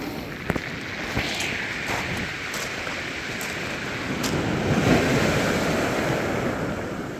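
Steady broadband wash of Black Sea surf at Arkhipo-Osipovka in October, with a swell in the middle, waves rolling onto the beach under some wind, no voices.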